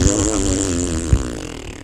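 A man blows a wet, buzzing raspberry with his lips to imitate a fart, loud and close, lasting nearly two seconds with a brief burst near the end.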